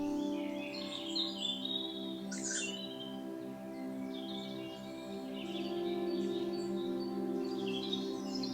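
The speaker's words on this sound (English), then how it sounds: "The smaller bird can be heard begging for food." A tawny owlet begs for food with repeated high, thin wheezing chirps, heard close and steady over a low, droning background hum.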